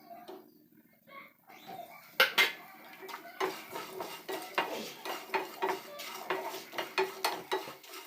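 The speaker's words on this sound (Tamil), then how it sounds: "இப்போ நம்ம கட் பண்ணி வச்சுருந்த வெங்காயத்தை அதோடு சேர்த்து வதக்கலாம்." Chopped onions are sautéed with roasted masala in a clay pot, heard as repeated close scraping and clattering of a ladle against the pot, with a few louder knocks and a faint sizzle underneath.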